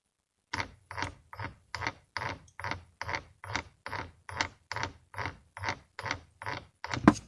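Electric starter motor from a 139FMB scooter engine, bench-tested on a power supply, whirring through about fifteen quick, even cranking bursts close by, with a louder clack at the end.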